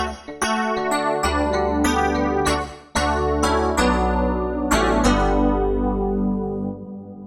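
80s-style synthesizer electric piano chords played in a loose rhythm, each one trailing off into a spacious reverberant wash, with a final chord fading out slowly.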